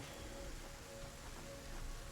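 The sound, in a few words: rain falling in the video game Satisfactory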